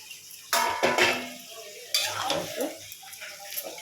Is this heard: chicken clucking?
no